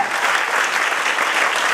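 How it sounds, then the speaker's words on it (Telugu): Loud, steady applause from teachers and guests at a school dining hall opening ceremony, a dense wash of clapping that fills the whole moment without pause. "వాళ్ళందరూ గట్టిగా చప్పట్లు కొట్టాలి."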